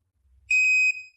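An electronic dog training collar gives a single short, high-pitched beep while pairing, clean and close, after a faint low rumble.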